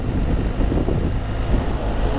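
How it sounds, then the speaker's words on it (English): Strong wind buffets the microphone during a motorcycle trip on a BMW R1250GSA on the road to Karesuando in northern Sweden, a loud, continuous low roar and rumble. "It's a bit windy here."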